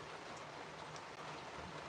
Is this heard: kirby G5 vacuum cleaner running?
no